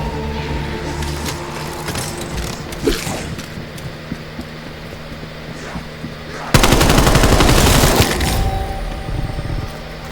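Assault rifle fire in a video game, a sustained loud burst of rapid automatic shots arriving partway through after quieter game ambience with scattered cracks.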